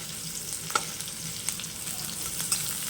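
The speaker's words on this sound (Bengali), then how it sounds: "পেঁয়াজটা একটু ভেজে, পেঁয়াজটা হাফ ভাজা ভাজা হয়ে গেছে" Onions sizzle in hot oil in a pan, half-fried, for a Bengali village-style dish: an even frying hiss with a few light stirring taps, close and alone without speech.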